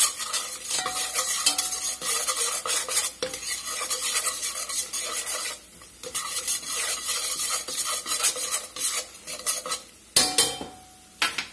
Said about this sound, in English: Let that cook a minute or two, get that raw flour taste out.